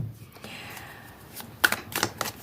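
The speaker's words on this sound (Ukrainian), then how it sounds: "поки я тасую колоду" Tarot cards riffled and snapped together in a few quick bursts near the end, after a stretch of quiet rustling, close and fairly loud.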